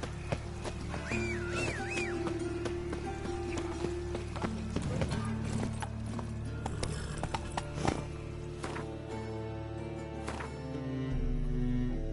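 A horse galloping in the Witcher 3: Wild Hunt video game, rapid clip-clop hoofbeats under game music and ambience, with a brief whinny-like sound.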